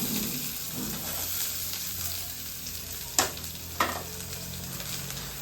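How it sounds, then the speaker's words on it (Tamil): Garlic and small onions sauté in a hot pan with a continuous, even sizzle, broken near the end by two sharp utensil clicks; no one speaks. "பூண்டும் சின்ன வெங்காயமும் இப்போ வதக்கிக்கலாங்க"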